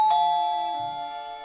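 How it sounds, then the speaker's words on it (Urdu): A single bright chime-like doorbell tone rings once as a sound effect in an Urdu audiobook, sustained and slowly fading, clear and close with no speech. "اسی لمحے باہر گھنٹی بجی۔"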